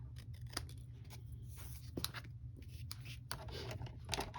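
Scissors snipping through card stock up close, a handful of crisp cutting strokes with short pauses over a low steady hum, no voices.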